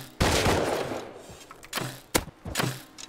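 Gunfire in a survival video game: a loud opening blast with a long decaying tail, then several more sharp, close shots spaced irregularly, with no talking.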